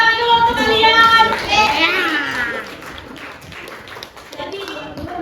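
A group of children in a classroom clap and cheer together, their bright overlapping voices loud and close over a burst of hand claps that fades into quieter chatter.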